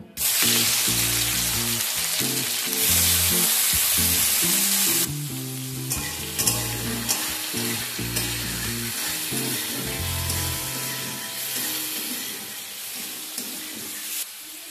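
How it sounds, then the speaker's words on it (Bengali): Prawns frying in hot mustard oil in a wok give a loud, steady sizzle that runs the whole time, with a tonal musical backing underneath and a slight drop in intensity partway through. "তেল ভালো রকম গরম হয়ে গেলে এর মধ্যে প্রথমে চিংড়িগুলোকে ভেজে নেব"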